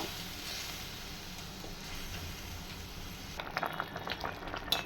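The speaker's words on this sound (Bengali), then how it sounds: "এখন আমি এর ভিতরে দিয়ে দেব অল্প করে একটু জল দিয়ে এবার এটা খুব ভালোভাবে সিদ্ধ হওয়ার জন্য কিছুক্ষণ রেখে দেব" Half-ripe mango pieces boil in a little water in a pot for chutney, a steady close bubbling hiss that runs throughout, with brighter sputtering pops toward the end.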